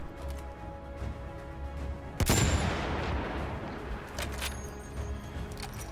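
Rifle gunfire in the video game Battlefield 1, with a single loud, sharp shot and a long rumbling decay, then scattered fainter distant shots over low ambient noise.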